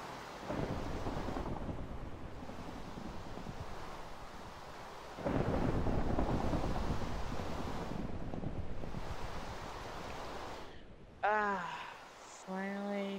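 Rain and thunder from a Minecraft storm form a dense, steady wash of rainfall with deep rolling thunder rumbles that swell midway. Brief tonal sounds appear near the end.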